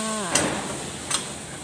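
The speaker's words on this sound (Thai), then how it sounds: "ผัดหมูให้สุกเลยค่" Pork sizzling and stir-frying in a hot pan, with two brief clanks of a utensil stirring against the metal.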